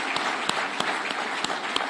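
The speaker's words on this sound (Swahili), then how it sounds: "Wapige makofi hao warembo jameni." A crowd at the official opening of Talanta Plaza in Nairobi applauding athletes Mary Moraa and Faith Kipyegon, a short stretch of steady clapping with a few sharper claps standing out near the microphone.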